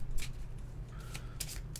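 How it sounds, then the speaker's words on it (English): Playing cards shuffled in a card game: brief papery riffles and flicks in a couple of quick bursts over a low steady hum, fairly close and without talk. "Shuffle the Beastcast device into the pull pile."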